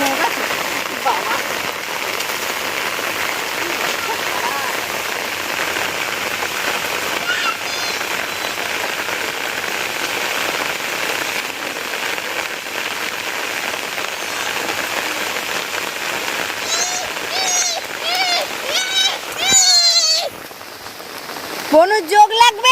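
Heavy rain pouring steadily over a vegetable garden, a dense, continuous hiss close by that lasts throughout, with a few voices and livelier splashes rising near the end.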